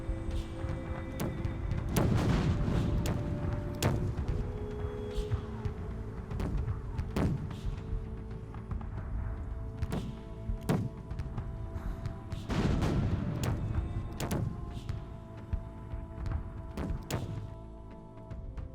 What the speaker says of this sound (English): The guns opened fire and for 2 hours shot Wagenburg, inflicting sensitive losses on the Swedes.